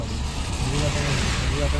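A car driving along the Malshej ghat road in the monsoon, a steady low engine and road rumble from inside the vehicle, with people talking over it.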